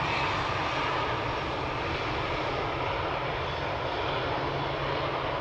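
Continuous heavy jet roar from a KLM Boeing 777 departing runway 18 left at Schiphol, broadband and loud, holding steady for the whole stretch with no talking.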